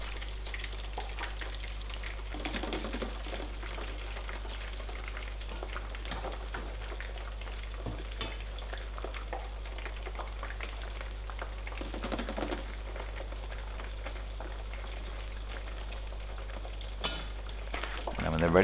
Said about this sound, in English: put those other 2 drumsticks in just to fry them off